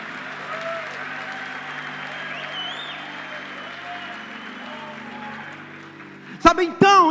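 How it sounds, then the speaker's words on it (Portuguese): Audience applause at a church men's conference, a moderate steady wash of clapping heard at some distance for several seconds, followed by a brief burst of speech near the end. "Dá uma salva de palmas para Jesus."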